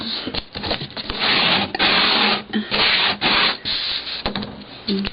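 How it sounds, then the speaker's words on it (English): Cardstock being rubbed to loosen its fibers for a hinge, a loud, close, dry scraping in repeated strokes of about half a second each with short gaps between them, with no talking. "just to loosen up those fibers in my cardstock so I can manipulate it to make the hinge"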